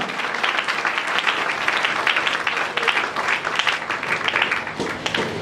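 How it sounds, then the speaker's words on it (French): A church congregation applauds steadily in acclamation at an Easter service, dense sustained clapping from many hands with no talk over it. "Acclamons pour le Seigneur"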